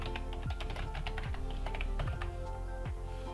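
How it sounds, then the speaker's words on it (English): Steady typing on a computer keyboard while entering an email address and password, with rapid, even key clicks running throughout and nearby. "Type your email here, enter the password."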